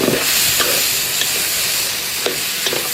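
Spices and ingredients for chicken biryani, including garlic powder, pepper and sisig, stirred and mixed in a hot sizzling pan, a loud continuous hiss broken by scraping stirs, close up with no talking.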